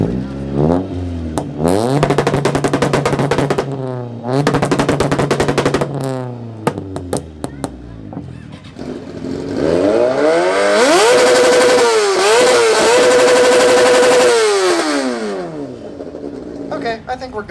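A motorcycle revs hard at an exhaust competition among muscle cars, trucks and JDM builds, loud sharp blips and sustained high-rpm wails with rising and falling pitch, crackling bursts between pulls, a crowd voice talking over it.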